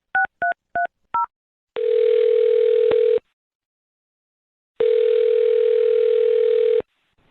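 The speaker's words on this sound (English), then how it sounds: "I'm going to dial his phone number right now" Four quick touch-tone beeps of a phone number being dialed, then two long steady ringback tones with a silent gap between them, clear and close with no talk.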